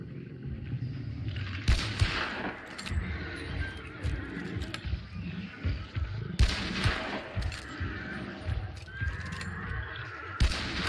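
Gunfire in the video game Hunt: Showdown: several loud, sharp shots ring out at separate moments over a busy game soundscape, with occasional low voice murmurs in the mix.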